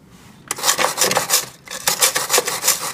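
Stiff stainless steel wire brush scrubbing the aluminum heat exchanger of a snowmobile, a loud close rasping scrub in repeated strokes with a short pause partway through, no talking.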